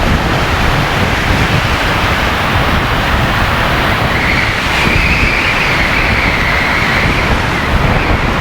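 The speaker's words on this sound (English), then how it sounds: "Look, here's the train." A loud, continuous roar of rushing noise as a train rumbles past in a heavy blizzard amid wind, with a faint rising whine partway through.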